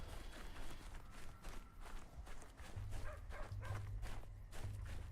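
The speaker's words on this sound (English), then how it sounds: "That dog sounds very realistic too. The barking." A dog in Pathologic 3 barks repeatedly amid footsteps and ambient game noise, the barks moderately loud and spaced irregularly, with no talk.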